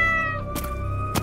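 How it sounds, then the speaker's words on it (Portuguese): A giant monster cat in a cartoon lets out a brief meow with a strong, tonal, drawn-out cry. A couple of short noise bursts break in near the end. "Nossa, um gato gigante monstro!"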